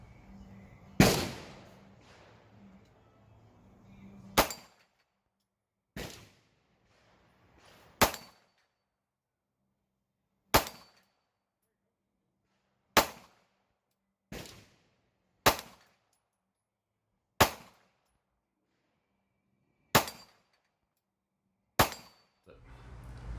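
Pistol shots from a Glock 43X with a red-dot optic ring out at an outdoor range, each round striking a steel plate on a plate rack: about eleven sharp reports with metallic clangs, evenly paced with clean silence between them.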